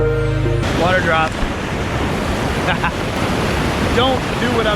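Rushing water from a waterfall reached by bicycle after rain, a steady broadband roar close by, with wind buffeting the microphone and a person talking over it.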